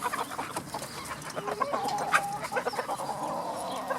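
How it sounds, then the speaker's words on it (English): Chickens in a mixed older flock cluck nearby, soft uneven clucks and short chatter with an occasional higher squawk, a big rooster among them, no talking. "Where is my beautiful rooster?"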